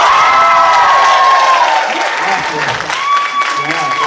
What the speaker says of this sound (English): give me that 10 applause